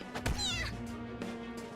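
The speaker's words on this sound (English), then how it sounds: "Goddamn cat!" A cat yowling in the video game Persona 5 Royal, a single wavering drawn-out meow over steady background music.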